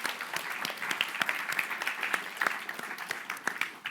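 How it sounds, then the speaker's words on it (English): Conference audience at a 2019 European developer event applauding, a steady wash of many hands clapping with sharp individual claps standing out, sustained for several seconds at moderate level. "Okay, everyone, a round of applause."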